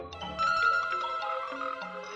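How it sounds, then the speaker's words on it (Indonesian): A mobile phone ringtone plays a bright, melodic electronic tune of stepping tones, fairly loud and continuous, with no talking over it. "Nah, tuh. Telepon lagi."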